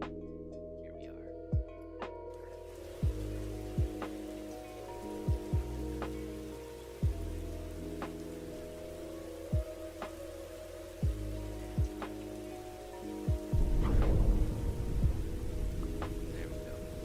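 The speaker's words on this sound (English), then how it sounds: "Personally, I appreciate the sounds of rain." Rain falls steadily as a soft hiss beneath a slow lo-fi music track with regular low thumping beats, and a heavier burst of rain noise swells near the end.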